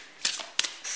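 Oracle cards being shuffled by hand, a few soft riffling bursts in quick succession, close and fairly quiet with no talking.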